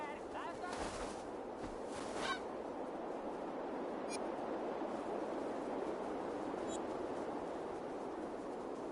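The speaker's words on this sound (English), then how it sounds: "That man is being attacked by chickens." Chickens cluck and squawk in the video game Assassin's Creed Valhalla, their fowl calls rising over a dense, steady wash of battle and crowd ambience.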